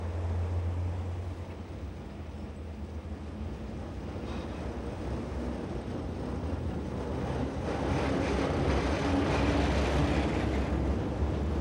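An RhB Crocodile locomotive hauls a mixed passenger and goods train out of Chur along the broad Rhine valley on the Swiss Albula Line, with a steady, continuous rumble that builds slightly louder toward the end and no voices.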